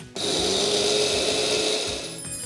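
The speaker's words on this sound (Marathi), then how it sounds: "मिक्सरच्या भांड्यामध्ये काढून घेतलेले आहेत आणि आता याची पण पूड करून घेऊया" An electric mixer grinder starts abruptly and whirs loudly and steadily, pulverising roasted horse gram into powder, with a dense, grinding motor roar close by.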